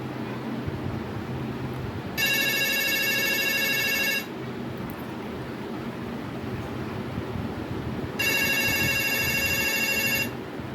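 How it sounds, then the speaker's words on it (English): A reassembled landline telephone rings in two separate bursts of about two seconds each, loud and electronic over a steady background hiss, with a pause between them and no talking. "the telephone was ringing."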